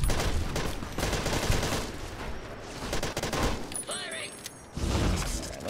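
Fallout: New Vegas combat with a Nuka Cola Factory mod, with rapid bursts of gunfire close and loud across several seconds and a brief lull before another volley, as a voice talks over it.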